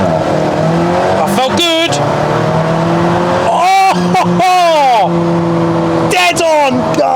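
A small Alfa Romeo 4C sports car launches hard in a 0–60 acceleration run, the engine note climbing through rising revs with short gear-change breaks, loud and close, while someone talks excitedly over it.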